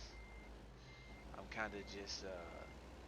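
Reversing beeps from a truck backing in within American Truck Simulator, a steady high-pitched repeating tone sitting under someone talking over the game sounds.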